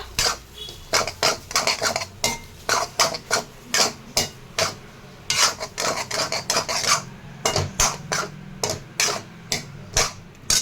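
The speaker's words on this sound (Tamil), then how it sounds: "அண்ட் எல்லாத்தையும் முடிச்சதுக்கப்புறம் ஒரு ஃபைனல் ஒரு மிக்ஸ் கொடுத்துக்கோங்க" Fried rice being stirred and mixed in a pan, a steady rhythm of loud metal spatula clanks and scrapes against the pan at close range, about two strikes per second, with no talk.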